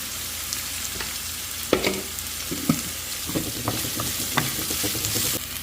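Chopped onion with ginger roasting in hot oil in a pan for a kadhi tadka, a steady sizzle broken by a spoon stirring and scraping against the metal with occasional sharp clinks.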